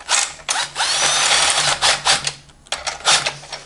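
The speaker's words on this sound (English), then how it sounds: "you can just use an impact to get it slightly through" An impact driver hammers a bolt through a Composimo mount on a Honda Ruckus GY6 scooter, giving loud, close rattling bursts in several pulses with a short pause between them.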